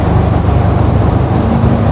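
A Ford Ranger Raptor diesel pickup truck engine drones with a deep, steady low rumble while accelerating, loud and close throughout, with no voices over it.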